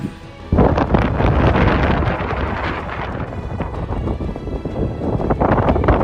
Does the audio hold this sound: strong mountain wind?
yes